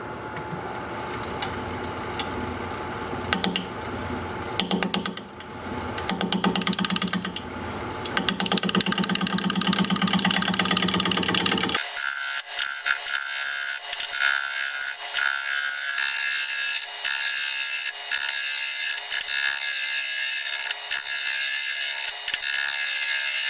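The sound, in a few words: wood lathe turning California olive wood with a bowl gouge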